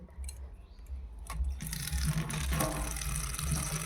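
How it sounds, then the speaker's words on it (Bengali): Water gushes and splashes steadily as meat is washed in a village kitchen, the flow growing louder and fuller partway through, with low rumbling in the background. "চলুন এগুলো ভালো করে ধুয়ে নেই মাংসটা।"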